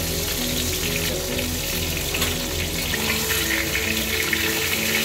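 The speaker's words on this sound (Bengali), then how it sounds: "এগুলো এবার একে একে ভেজে নেবো, ভালোভাবে ভেজে নিতে হবে।" Pieces of pointed gourd (parwal) fry in a pan of oil with a loud, continuous, even sizzle throughout, and a low steady hum underneath.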